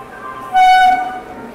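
An Ajmer Superfast Express train arriving at an Indian railway station at night gives a short, loud horn toot over low station ambience.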